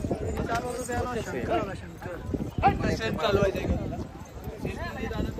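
Steady hoof clops of a riding horse at the Mahabaleshwar hill station sound under nearby talking, a regular rhythmic beat running through the whole stretch.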